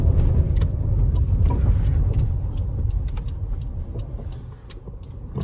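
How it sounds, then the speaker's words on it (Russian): A Hyundai i30 FD on a test drive, heard from inside the cabin as a steady, low road-and-engine rumble with faint scattered clicks and rattles throughout. "Сейчас поедем с вами прокатимся на автомобиле, проверим техническую часть, как чувствует себя коробка, как тянет двигатель"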